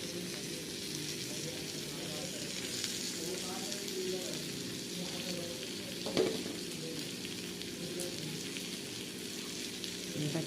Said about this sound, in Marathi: मग असं मस्त स्वच्छ केलेला हा जवळा आहे, तो घालतो.